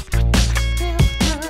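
Excerpt of a song plays loud and close, a short burst of melodic sound with strong bass and pitched harmonic layers over about a second and a half.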